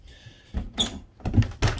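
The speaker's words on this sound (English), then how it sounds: "this door actually opens up, and there's a little magnetic holder that will keep the door open" An RV bathroom door on a Cruise America rental motorhome swings open, giving a few close, soft thumps and a light latch click in a quiet interior.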